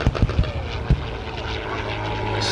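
A World War II-era warbird with a 1,325-horsepower Allison engine drones overhead at an airshow, a steady propeller roar building gradually, with a few sharp thumps and crowd noise near the start.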